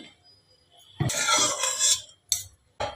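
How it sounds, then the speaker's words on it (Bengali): Lentil dumplings (bori) drop into a wok of hot mustard oil, giving a burst of crackling sizzle, followed by two short clattering bursts. "এই ডালের বড়িগুলোকে আমি ভাজবো, কড়াতে দিয়ে দিলাম।"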